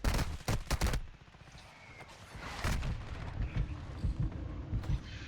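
Video game combat with a mortar strike and gunfire: a cluster of sharp, loud shots opens, then rumbling impacts and scattered bursts of fire continue at moderate distance.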